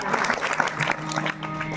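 Hands clap together in a crowd at a kirtan, a continuous patter of applause at moderate loudness, with some speech blended in.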